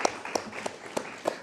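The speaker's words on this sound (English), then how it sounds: "Round of applause." A handful of separate claps from a small audience at a career panel discussion come sparse and uneven, with no continuous ovation building up.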